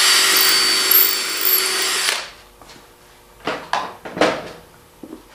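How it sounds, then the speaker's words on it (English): A power drill bores into a wooden tumbler support, a loud steady high whine for about two seconds that cuts off, followed by several softer knocks and handling clatters nearby. "I made my mark, I drilled it in."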